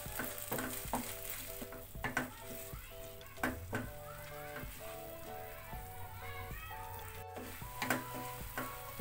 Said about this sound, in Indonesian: Kita aduk sampai tercampur merata.